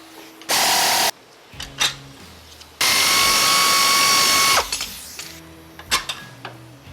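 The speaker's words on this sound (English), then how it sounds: "you can go ahead with removing the lower bolt for your shock" A ratchet works on the lower shock bolt of a 2018 Jeep Wrangler JL during a lift kit install, heard as two sustained loud bursts of ratcheting or power-tool whirring with clinks of tools between them.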